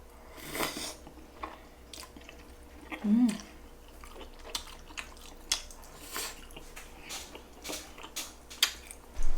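Close, soft chewing of tteokbokki with cheese, a few wet bites and squishy mouth sounds spread out over a quiet background with no talking.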